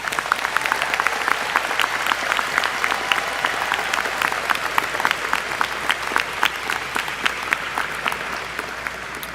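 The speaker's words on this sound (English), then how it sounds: "give them a round of applause" Audience at a high school graduation applauds, a dense, steady crowd clapping that continues loudly for several seconds with scattered sharp claps.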